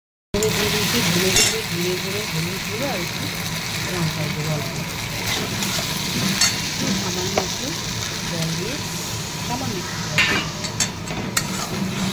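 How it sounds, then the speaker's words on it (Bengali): Cumin seeds and dried red chillies sizzle in hot oil as a tempering, making a steady close frying hiss with bursts of crackle and stirring, while a person talks over much of it. "ফোড়ন দেওয়া যাক, ফোড়নের প্রথমে জিরে দিয়ে দেবো, শুকনো লঙ্কা"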